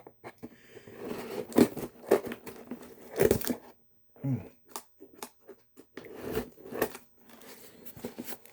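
Scissors snip and slice through paper and plastic packaging on a KISS Creatures of the Night 40th anniversary two-CD set, with crinkling and tearing in irregular close bursts between pauses.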